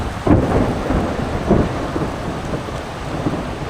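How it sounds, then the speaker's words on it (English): Thunder rumbles through a steady downpour at a primitive campsite by the upper Santa Fe River, a couple of low booming rolls swelling over the continuous hiss of rain. "that was pretty quick for the thunder"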